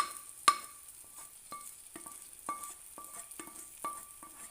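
Fried onion tempering poured into a bitter gourd fish curry, faint crackling and sizzling with a series of sharp ticks and clinks at irregular intervals, quiet and close.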